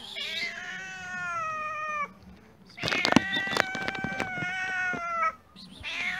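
A cat meows loudly and close by, giving several long, drawn-out, wavering meows with short pauses between them and no other sounds.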